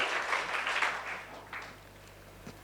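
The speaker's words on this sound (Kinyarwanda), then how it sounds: "Piga makofi kwa Bwana." A church congregation applauds in a brief burst of clapping that swells, then fades to a softer patter.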